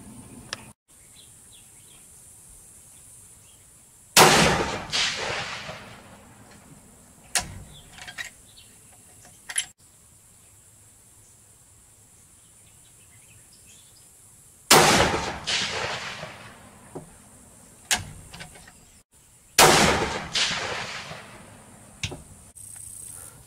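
A 7mm Remington Magnum rifle fired outdoors at a 200-yard target: several sharp, loud shots spaced seconds apart, each followed by a rolling echo and decay, with faint clicks and handling noises between shots.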